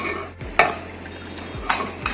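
Foxtail millet is dry-roasted in a pan, with light scraping and stirring clinks of a utensil against the metal and a faint sizzle between strokes.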